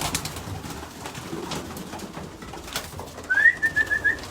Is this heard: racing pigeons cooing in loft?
yes